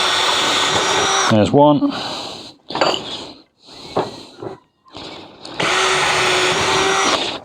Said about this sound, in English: I shall just put 2 holes through it near the end